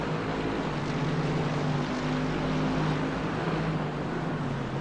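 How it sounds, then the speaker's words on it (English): Mercedes GT race car in the iRacing simulator at Imola, a low grumbling engine drone holding a steady pitch, moderately loud and continuous with no talking. "Mercedes have a really low grumbling engine."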